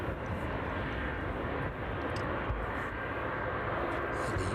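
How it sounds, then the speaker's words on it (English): A Boeing 737 airliner passes overhead near Derby on an evening approach toward East Midlands Airport, a steady, distant broadband roar that holds level throughout. "Atlantic 737 just passing overhead Derby now,"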